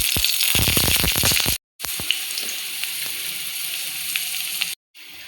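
Garlic and cumin sizzle steadily in hot ghee in a pan for ragi vegetable soup, a close, continuous hiss with a few sharp clicks of stirring early on and two brief cuts to silence.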